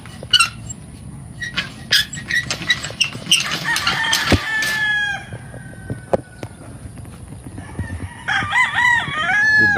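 Roosters crow and chickens cluck at a big Philippine breeding farm, several loud crows rising over a steady bed of clucking, with a dog barking now and then and a brief flutter of wings.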